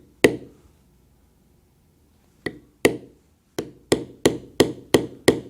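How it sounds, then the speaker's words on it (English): Leather stamping tool struck lightly for a basket weave impression, giving one crisp tap, a pause, then a steady run of about eight sharp, evenly spaced strikes, close and clear with no talk. "Not striking very hard, just enough to get a slight impression."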